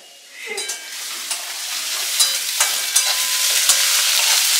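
Onions sizzle and fry in a pan with intermittent stirring and spoon scrapes, a steady close hiss building over the few seconds with short clicks and scrapes on top.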